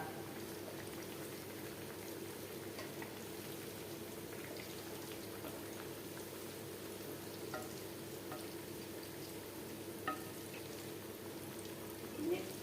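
Onion vada sizzle in hot oil with a steady, faint crackling hiss throughout, broken by a few soft clicks and a brief stir near the end.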